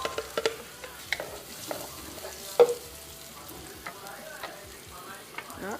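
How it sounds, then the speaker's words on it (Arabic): Meat fries quietly in a pan of ghee and oil while being cooked for Ramadan frik chorba, with a soft sizzle, occasional stirring scrapes and clinks, and a few sharp taps. "درت اللحم تاعي يتقلى"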